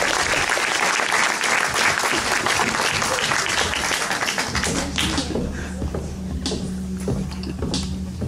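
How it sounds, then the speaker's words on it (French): Loud, dense audience applause for a magician at a magic show, steady clapping throughout with a low hum entering partway. "On peut applaudir très fort notre ami."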